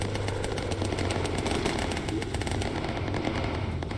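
A tail gunner's machine gun fires in the Bomber Crew video game, continuous rapid bursts of gunfire over a steady droning bomber engine, dense and sustained for the whole stretch.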